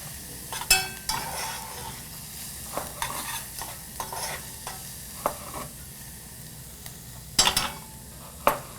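Onions brown in a pan under a soft, constant sizzle, punctuated by frequent clacks and scrapes of a spoon stirring against the pan, with a few louder knocks near the end.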